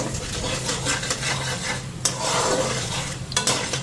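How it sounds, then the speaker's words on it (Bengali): Cumin and coriander powder frying in a pan, with a soft steady sizzle broken by scraping stirs and a couple of sharp utensil knocks against the pan, close and unaccompanied by talk. "এবার মশলাটা ফ্রাই করে নিতেছি জিরা ধনার গুঁড়া দিচ্ছি"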